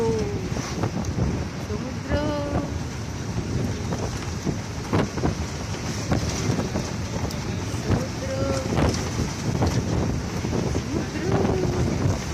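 Wind buffeting the microphone on a bus ride along the seashore, with steady rushing wind and sea noise filling the whole stretch while people talk over it.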